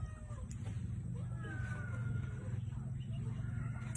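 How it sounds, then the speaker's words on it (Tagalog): Several cats meow faintly in the background behind a person at home, their brief wavering cries rising over a steady low hum and murmuring voice. "Kasi magugulo yung mga pusa sa likod ko."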